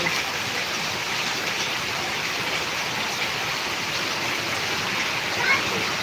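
Heavy rain in Karnataka sends floodwater rushing in a steady, loud broadband roar that fills the whole stretch without pause.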